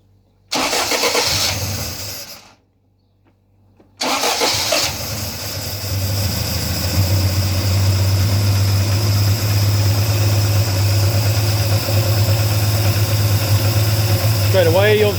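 A Vauxhall Firenza HPF with a Lotus engine conversion and fresh exhaust cranks and catches, cuts out briefly, then restarts and settles into a steady, loud idle in a garage shed.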